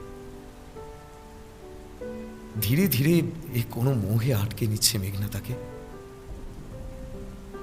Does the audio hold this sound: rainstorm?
yes